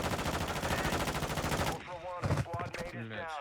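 Rapid automatic gunfire in Call of Duty Warzone DMZ rattles continuously, then breaks into a few separate shots and bursts as people talk over it.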